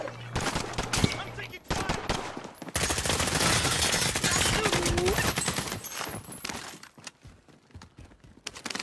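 Sustained automatic gunfire erupts during a Call of Duty: Warzone match, dense rapid bursts building into a loud fusillade that rolls on for several seconds before thinning out, with voices talking over it.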